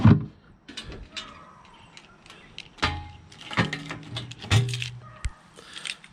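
Small drawer in a 2020 Host Everest triple-slide truck camper sliding open and shut, a few close, sharp clunks and rattling slides with brief gaps between them.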